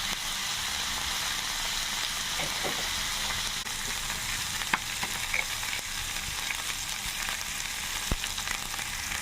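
Green chillies and cumin seeds roasting lightly in a pan, giving a steady soft sizzle with scattered faint pops and crackles, alone with no talk.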